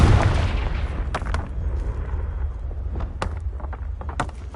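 A Confringo blasting curse explodes in the Hogwarts Legacy video game, a loud booming blast with rumbling low tail and several sharp crackling pops scattered after it.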